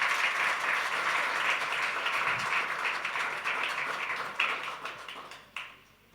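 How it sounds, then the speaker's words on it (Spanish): A church congregation claps loudly for the Lord during a service, steady dense applause that tapers off over about six seconds with a few final claps. "le da un fuerte aplauso al Señor"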